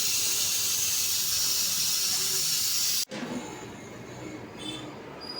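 A loud, steady hiss of steam venting from a pressure cooker cooking chicken biryani, cutting off abruptly, leaving a quieter background with faint higher whistling tones afterward.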